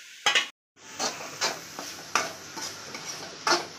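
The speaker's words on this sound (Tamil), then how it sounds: "இடையில முட்டையை நமக்கு வெங்காயத்தில் கிளறிக்கலாம், இல்லைன்னா அடி பிடிச்சிடும்." Egg being stirred with onions in a pan for egg bhurji: a spatula scrapes and taps the pan in irregular strokes over a soft sizzle, with a brief silent gap near the start.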